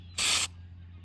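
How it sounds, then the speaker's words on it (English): A short aerosol burst of black Plasti Dip rubber coating sprayed onto a BMW interior push-to-start button trim piece, one steady hiss of about a third of a second, close and loud over a low background hum. "I'm just gonna go ahead and spray it black with Plasti Dip"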